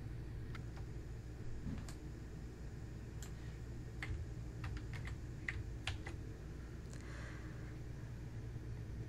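Keys on a computer keyboard clatter in scattered light clicks over a steady low room hum, typing a command in a Bash terminal in the Cloud9 IDE during an AWS CodeStar lab.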